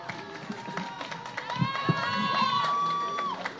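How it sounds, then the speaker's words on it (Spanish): A crowd at a National Guitar Day event in Teyahualco, Mexico, cheers and claps for a guitar ensemble, with scattered claps under a sustained shout or whistle that rises, holds and fades, mixed with crowd voices. "Un fuerte aplauso para ellos"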